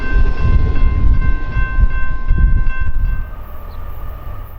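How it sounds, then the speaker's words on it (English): A BNSF westbound intermodal freight train rolls past along Route 66 under threatening skies, a loud, close, continuous rumble of wheels and cars with a sustained horn tone fading partway through. "we caught a westbound intermodal running under now threatening skies"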